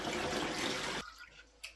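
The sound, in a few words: distilled water being poured for coolant mix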